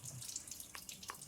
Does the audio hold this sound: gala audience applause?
no